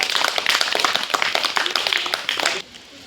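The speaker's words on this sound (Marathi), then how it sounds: "जोरदार टाळ्या वाजवा जोरदार टाळ्या वाजवायच्या" A school quiz-competition audience claps loudly in a dense burst of rapid, overlapping hand claps for a couple of seconds, then the applause cuts off abruptly.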